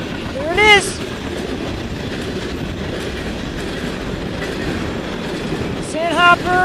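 A CN freight train rolls steadily past at Ladysmith, its wheels rumbling and clacking continuously near the listener, with brief squealing harmonics and excited voices at the start and end.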